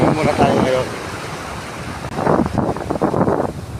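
Wind buffets the microphone at a seashore while walking, with the soft wash of waves in the background and a person talking.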